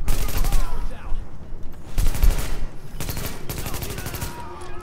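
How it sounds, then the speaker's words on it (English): Sustained automatic gunfire in a shooter video game, with loud bursts arriving in waves, some quieter scattered shots between them, and game voices faintly underneath. "taking heavy fire from the roof"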